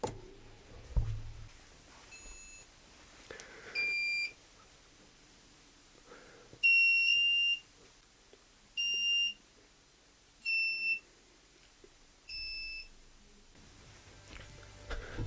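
WiFi-controlled buzzers beep one after another in a quiet room, six or so short electronic tones at slightly different pitches spaced a second or two apart, clear and close with no talk.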